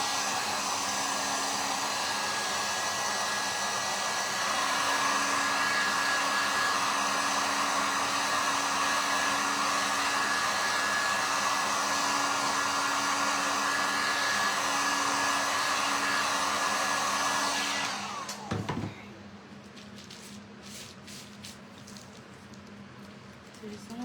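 A hair dryer blows steadily and loudly at close range, drying a farmhouse craft sign made from a padded envelope, then switches off near the end, leaving faint handling sounds.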